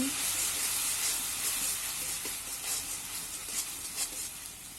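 Spice paste for a beef tripe dal sizzles and fries in a pan, a soft, steady hiss with faint scraping from stirring, moderately quiet and with no voices.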